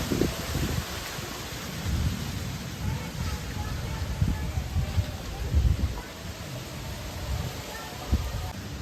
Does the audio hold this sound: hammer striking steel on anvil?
no